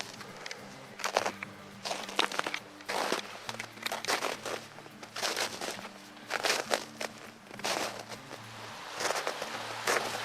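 Footsteps crunching through crusty snow while walking in rubber boots, a series of crisp crackling bursts in an uneven walking rhythm, close and fairly quiet.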